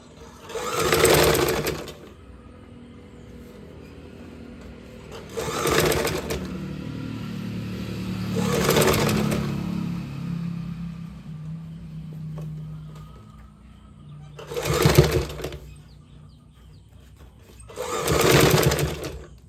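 A sewing machine stitches canvas for a shirt collar, running in short, loud whirring bursts separated by quieter pauses with faint handling noise between them.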